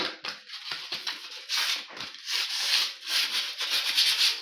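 Sandpaper rubs steadily over a hardened, bubbled epoxy coating on a bathroom floor, making a continuous rough scraping in short back-and-forth strokes, loud and close, with no talk.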